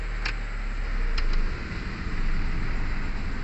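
A 1999 Honda Civic engine idles with a low, uneven rumble that dips and surges slightly, nearly stalling with the air conditioning on due to an idle-up malfunction, with a few faint ticking clicks near the start.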